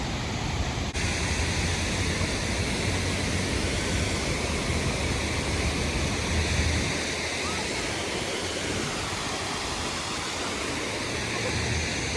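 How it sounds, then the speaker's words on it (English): Water pours steadily through the active pool of the Fort Worth Water Garden, a dense continuous rush that fills the whole clip at an even level with no breaks. "this is the active water pool section of the Water Garden."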